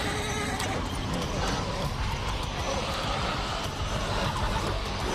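An injured horse in The Walking Dead whinnies and neighs over a dense, busy background of hooves and commotion, loud and continuous throughout.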